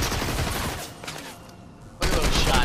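Video game gunfire, with rapid bursts of shots from a bounty hunter style shooter, dense and loud throughout and briefly thinning in the middle before the firing picks up again.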